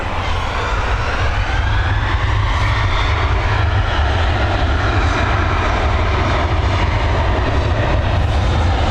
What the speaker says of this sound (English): FR831 now heading over to Venice. Another Boeing 737 on the Ryanair fleet.